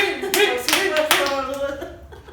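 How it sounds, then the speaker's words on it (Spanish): Two sharp hand claps ring out close by, with voices and laughter around them. "Aplauda 2 veces si está dispuesto a casarse."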